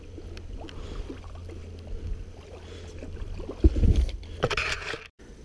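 Kayak sliding into cold water with icy edges, a low scraping rumble of the hull followed by splashing paddle strokes and gurgling water, fairly quiet and close with no talking.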